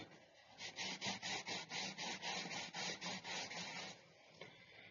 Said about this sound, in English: it is cotton and I am rubbing it with